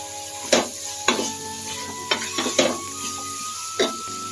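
A spoon stirs chopped bottle gourd and coconut-fennel paste in a frying pan for kurma, giving a low steady sizzle broken by several sharp scraping knocks against the pan, close and clear with no talk.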